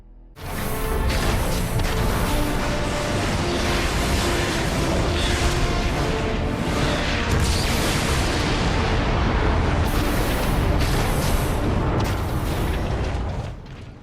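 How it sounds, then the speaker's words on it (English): In Transformers: Fall of Cybertron, the giant Metroplex blasts a warp cannon, producing a dense, roaring wall of explosions and booming impacts that stays loud and continuous for over ten seconds before dropping away. "Once Metroplex's targeting systems have come online, we can order him to destroy the first warp cannon."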